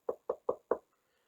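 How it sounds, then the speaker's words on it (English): Four evenly spaced knocks on a door, crisp and close, then silence. "There was another knock at the door."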